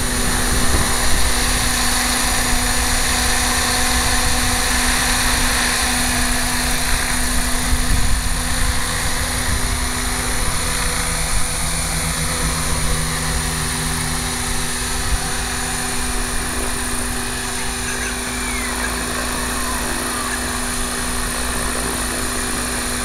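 A Gaui RC helicopter on its first flight with a 3000mAh 6S battery, giving off a steady, loud, high-pitched whine of motor and rotor that holds constant throughout, with no talk.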